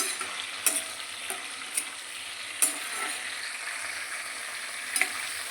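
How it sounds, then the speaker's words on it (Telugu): Ingredients for chutney deep fry in hot oil, giving a steady close sizzle with several sharp spatula scrapes and clinks against the pan. "ఇవి బాగా వేయించాలి."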